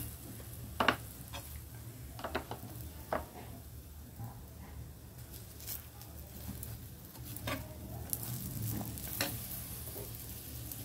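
A paneer paratha frying in ghee on a pan, with soft continuous sizzling and scattered sharp ticks and scrapes from turning and spreading, fairly quiet and close, with no talking.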